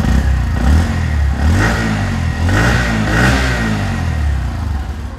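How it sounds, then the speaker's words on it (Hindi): A 2023 Bajaj Platina 110 ABS motorcycle with a five-speed gearbox runs close by, its steady single-cylinder exhaust thrumming evenly with a few gentle rises in revs throughout. "तो चलिए एक बार इसको स्टार्ट करते हैं, स्टार्ट करके इसका एग्जॉस्ट नोट भी आपको सुनाते हैं।"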